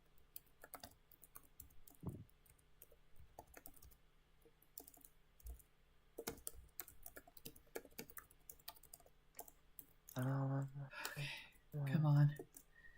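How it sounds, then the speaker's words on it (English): Computer keyboard typing during a game jam stream, scattered bursts of quick soft key clicks with pauses between, close and quiet, a voice briefly speaking near the end. "Let me just type it all out."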